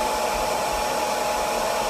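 A Conair bonnet hood hair dryer runs on its low setting, giving off a steady, even whoosh of blowing air with no talking.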